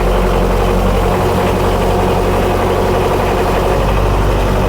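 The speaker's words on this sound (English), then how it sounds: "We're going to let it idle a little minute before we switch it off and have a look at the engine." A former post office Scammell Scarab idles continuously, a loud, steady low rumble with an even mechanical throb and no voices.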